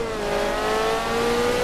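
A tuned Ferrari 360 making 600 horsepower with racing cams in Forza Motorsport 2, its engine revving in a loud, close, sustained high-pitched wail that climbs steadily in tone.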